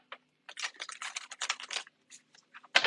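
Tarot cards are shuffled in short, dry riffling bursts, several quick papery flurries separated by brief pauses, close and crisp, ending with one sharper, louder shuffle.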